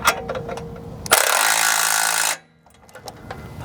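Power tool tightening the bolts on the synchronizer bar of an R300 or ProSlab harvester: a loud, steady broadband whir for about a second, then it stops; fainter clicks and handling noises before and after.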